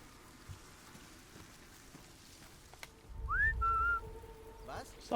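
A short rising whistle followed by a held tone cuts clearly through rain and low background rumble in the video game Sniper Elite 5, mission Festung Guernsey, heard once near the end.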